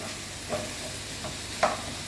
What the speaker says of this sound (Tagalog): Ilagay natin yung sibuyas.